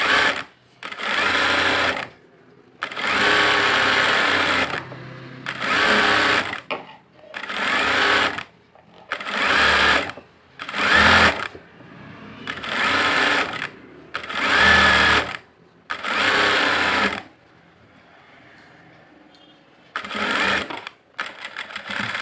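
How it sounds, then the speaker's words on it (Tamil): A sewing machine stitches a blouse piece in about ten loud, even bursts of a second or two each, separated by short silent pauses, with no voices. "பீஸ் வச்சு அது மேலேயே போட்டுருவாங்க படிமான தையல்"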